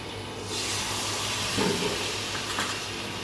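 Potol and prawn curry fries in a pan with curd and water, giving a steady, close sizzling hiss that swells slightly midway and runs on without any voices.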